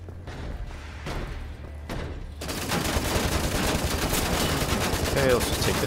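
The moon gun in Wolfenstein: The New Order fires a few spaced shots, then breaks into a long, loud burst of rapid automatic fire that keeps going steadily to the end.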